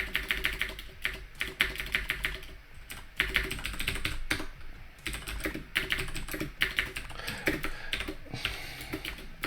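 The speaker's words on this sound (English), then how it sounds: "I want to type too fast for this editor." Fast, continuous typing on an Atari 8-bit computer keyboard while entering a program, with dense, clattering keystrokes close up and only brief pauses over nearly ten seconds.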